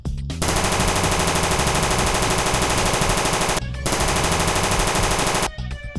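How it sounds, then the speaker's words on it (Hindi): Cartoon machine gun fire in a rapid, unbroken stream, loud and close, with a brief pause partway through before another long burst and a short gap near the end. "बंदूक के गोलियों की आवाज सुनाई देती है"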